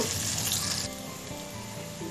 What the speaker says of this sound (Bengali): দিয়ে হালকা ভেজে নিব